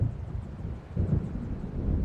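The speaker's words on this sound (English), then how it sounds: "It seems there's a storm coming." Thunder from an approaching storm in the Alan Wake video game rumbles low and faint, a continuous deep roll that swells slightly midway and toward the end.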